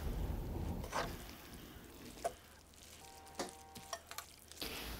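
Pancit canton and bihon noodles being stirred in a pot, with soft scraping and wet clacks of a utensil over a gentle sizzle, faint and intermittent throughout.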